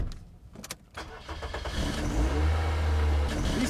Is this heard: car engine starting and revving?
yes